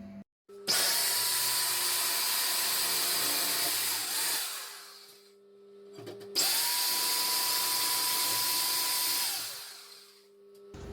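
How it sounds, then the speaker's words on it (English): A power drill whirs loudly in two long bursts drilling holes for a close-coupled toilet cistern, each spinning up, running steadily for several seconds, then winding down, with a short pause between. "Just gonna drill a hole to skewer the cistern."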